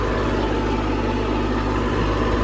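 Steady tractor engine running through fall tillage with a Land Pride implement hitched behind, a continuous low rumbling drone at constant loudness with no voices.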